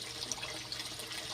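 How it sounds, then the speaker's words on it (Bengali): Water is poured into a pan of Hyderabadi chicken kosha, a brief close splash and trickle over a low background. "এইবার অল্প পরিমাণে জল দিয়ে দেব, গ্রেভি গ্রেভি থাকবে।"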